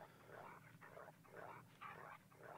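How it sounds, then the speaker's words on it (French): Dogs barking in a video game: several muffled bursts of barking and yipping come in quick succession, faint and distant against a steady game background, with no talk over them. "Les chiens, ils s'arrêtent jamais ou comment ça se passe?"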